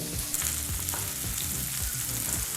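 Bitter gourd frying in a pan for a gourd gravy, a steady close sizzle with a soft rhythmic scrape of stirring running throughout, no voices.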